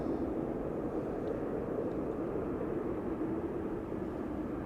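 Steady broadband jet roar from an airliner departing runway 18 Left at Amsterdam Schiphol Airport, a continuous, fairly distant rumble that holds level throughout with no voices.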